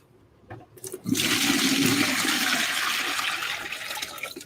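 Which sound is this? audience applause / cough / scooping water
scooping water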